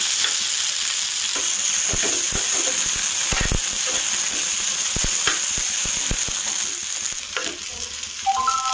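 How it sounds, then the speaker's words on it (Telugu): Okra frying in a pan for curry, a steady close sizzle broken by frequent clicking stirs and scrapes of a utensil against the pan. "ఇది కొంచెం బాగా ఫ్రై చేసుకోవాలండి బాగా ఫ్రై చేసుకుంటేనే దీంట్లో ఉన్న జిగురు అంతా పోయి"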